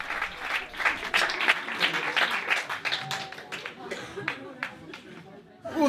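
Applause from an audience at a stage show comes as a patter of claps that swells and fades over several seconds, mixed with background chatter and voices.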